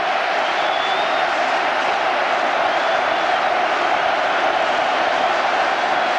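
A vast crowd inside Wembley Stadium roars continuously as the teams come out for the 1982 FA Cup Final, a dense, loud, unbroken wash of cheering.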